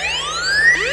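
A smartphone rings in response to hand clapping, a bright electronic tone of sweeping, rising pitches that repeats and restarts, steady and close, with no voices.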